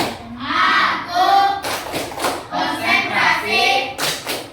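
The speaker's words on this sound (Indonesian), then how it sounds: "Coba tepuk konsentrasi." A classroom of pupils performs a rhythmic concentration clapping routine, claps landing in quick patterned bursts with chanted voices over them, loud and close throughout.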